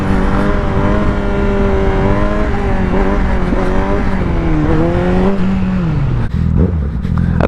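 A 2019 Honda CBR1000RR SP sportbike, ridden in low power mode, revs hard during a wheelie. Its loud, close engine note rises and dips in pitch over several seconds before dropping off sharply near the end.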